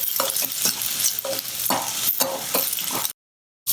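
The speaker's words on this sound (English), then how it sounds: "I have taken 1 spoon of oil and add 2 sliced onions to it." Sliced onions stir-frying in a spoonful of oil, crackling hard under quick, rhythmic scraping strokes of a spoon, then cutting off abruptly into silence.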